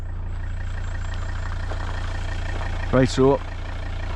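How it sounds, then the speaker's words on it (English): A parked vehicle's engine idles steadily and close by throughout, a low constant rumble beside a trail area, with a brief spoken remark near the end. "I'm just letting the engine run for a while"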